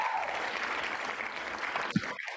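A room full of people clapping, a dense steady wash of applause that holds for a couple of seconds before thinning out, close and fairly loud.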